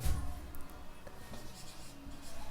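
Pen writing by hand on paper while working a math integration problem, a soft continuous scratching that runs steadily and close throughout, faint and quiet with no talking.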